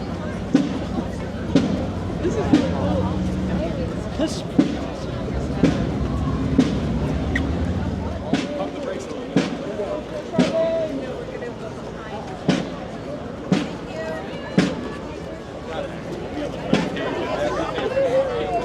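A crowd murmurs and chatters in the open air at a Paul Revere ride reenactment along the route from Boston to Lexington, with sharp claps or pops recurring every second or so and people talking nearby.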